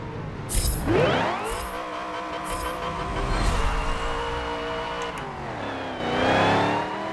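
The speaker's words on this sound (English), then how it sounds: "Oh man, listen to that supercharger." A supercharged car engine in Forza Motorsport 7 revving hard and whining through rising gear shifts, loud and close, with a high-pitched supercharger whir over the roar.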